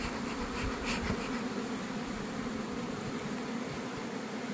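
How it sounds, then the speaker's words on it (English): Honey bees at an opened hive during the spring gallberry and palmetto honey flow, making a dense, continuous swarm hum at a low, steady level, alone without talk. "Give them another puff of smoke."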